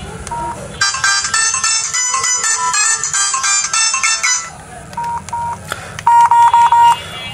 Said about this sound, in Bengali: চলুন দেখা যাক যে ফোনটির যে রিংটোনের সাউন্ড এইটা কেমন ছিল